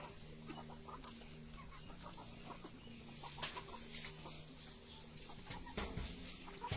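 Darag native chickens with black feet cluck softly at close range in a rural yard, with scattered calls over a low, steady background.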